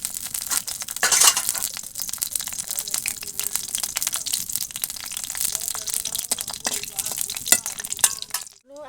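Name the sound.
whole dried red chillies and bay leaves frying in oil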